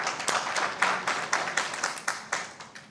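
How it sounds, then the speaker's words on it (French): An audience at a Pan-African Women's Day gathering in Mali claps in moderately loud, evenly repeating bursts, with no voices over it. "Applaudissez pour ça."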